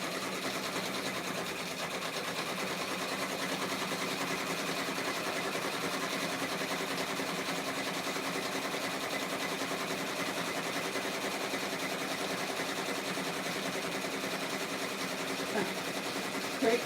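Sewing machine stitching a small patch made from a reused scrap of fabric, a steady continuous whir that runs the whole time at an even level.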